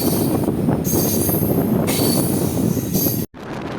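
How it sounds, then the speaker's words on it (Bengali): The Godda–Ranchi Intercity Express runs along the line, a loud, close rumble of wheels on rail with bright metallic squeal across the whole stretch, cut by a brief sudden dropout near the end. "গোড্ডা থেকে 59 কিলোমিটার কভার করে এসে আমাদের ট্রেন ছেড়ে দিল এখন বারাপাড়াসি রেলওয়ে স্টেশন"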